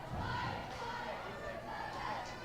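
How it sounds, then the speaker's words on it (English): Crowd murmur fills a high school basketball gym during a boys' and girls' game, a steady, moderately loud wash of overlapping chatter and distant voices with no single voice standing out. "It's like a decent crowd tonight"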